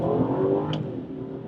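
A 2017 Mercedes-Benz S550 engine revs hard under acceleration, a loud steady drone close by with a brief higher whine partway through, no voices.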